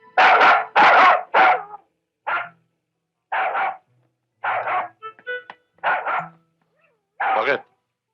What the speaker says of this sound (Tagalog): Sir, may aso.